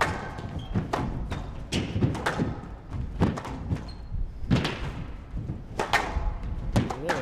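Squash volleys in a professional match between Karim Darwish and Mohamed El Shorbagy, a sharp ball thump against the front wall among a rapid rally of repeated thuds and squeaks, with commentary talk underneath.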